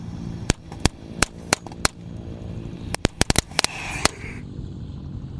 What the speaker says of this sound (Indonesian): untuk yang pertama kita nyalakan adalah mercon tank tor ya